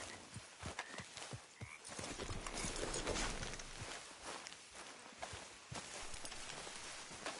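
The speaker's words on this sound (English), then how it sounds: "get back on your horse." Horse hooves in the video game Red Dead Redemption 2 beat a quiet, steady clip-clop rhythm across a dirt trail near a forest, faint and even under a soft ambient bed with no talking.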